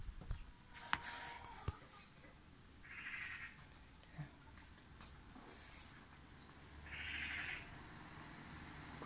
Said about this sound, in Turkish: Kuş seslerini duyuyor musunuz arkadaşlar?